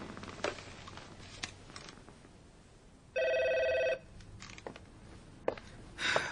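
A telephone bell rings once in a single burst lasting under a second, loud and close, after a stretch of quiet room tone with a few faint knocks.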